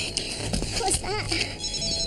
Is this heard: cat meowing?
no